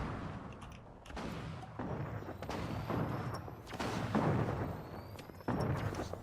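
Gunfire in a shooter video game from a scoped AR and a sniper rifle: repeated sharp cracks and booms over a dense, noisy battle backdrop, fairly loud throughout, with no talking.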